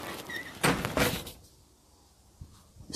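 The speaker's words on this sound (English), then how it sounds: "let me close the door" A door is pulled shut indoors, giving two close, loud sliding thumps in quick succession, then near silence with a faint knock afterward.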